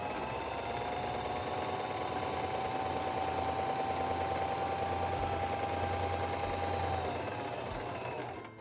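A SINGER 2273 Esteem II sewing machine stitches fabric in a steady, close, rapid mechanical whir with a constant motor hum that runs unbroken for several seconds, then stops.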